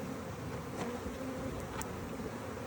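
A swarm of honeybees buzzing steadily during an outdoor hive split, a dense continuous drone with individual bees flitting close past now and then, no voices.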